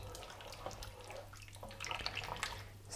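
Water pours from a tap or jug into a cooking pot to cover chopped vegetables, including potatoes and lentils, for a Turkish lentil soup. The stream runs steadily and close by for about three seconds and grows slightly louder toward the end.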